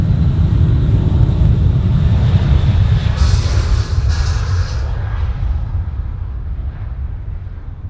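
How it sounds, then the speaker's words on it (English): Emirates Airbus A380 passing at night at Sydney Airport, a loud, steady broadband jet roar that stays strong throughout and eases slightly toward the end. "let's see if we've got any on the Super A380 now coming across your screens right now"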